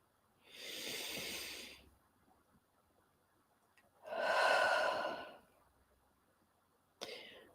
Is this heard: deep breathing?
yes